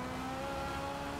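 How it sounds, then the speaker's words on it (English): A racing car engine in a racing video game holds a steady, high, over-revving drone, loud and continuous for about a second with no talk. "Feel a little over rev"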